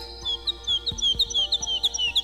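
Small winter birds such as sparrows, tits, crows, pigeons and magpies twitter outdoors, with repeated thin high chirps in quick irregular succession over faint background hum.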